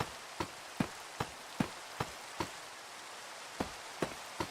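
Rain falls in the building game RealmForge as a soft, steady hiss, with sharp knocks repeating at an even pace over it.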